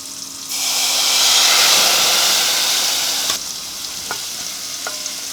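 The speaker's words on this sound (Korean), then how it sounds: "말리듯이 졸인 다음에 화이트 와인으로도 한번 디글레이징" Steak au poivre pan hisses in a loud, steady sizzle as white wine hits the hot fond, following an earlier cognac deglaze, then eases to a quieter simmer with a few light utensil clicks; no voices.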